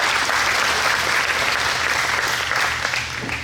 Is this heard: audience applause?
yes